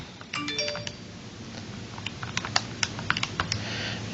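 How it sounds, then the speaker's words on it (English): Fingers tap numbers into a calculator, a quick run of small crisp key clicks with a few brief electronic beeps early on, steady and close. "now we can just type that into our calculator"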